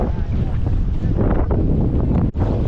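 Strong, gusty wind roaring across the microphone on a fishing boat out in a New York City bay, loud and constant, with a brief dip near the end.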